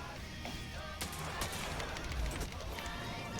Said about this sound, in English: He pulled out his Graviton lance.